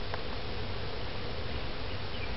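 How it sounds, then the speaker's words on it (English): A big swarm of honey bees gathered around a hive box gives a steady, dense buzzing drone that stays even and close throughout, with no voices over it. "There's a big, big, big swarm of bees."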